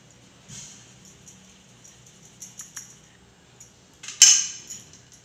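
Sifted flour, baking powder and baking soda for a plum cake being mixed in a bowl, with faint soft scrapes and taps, then a sharper clink of the utensil against the bowl near the end, close and quiet.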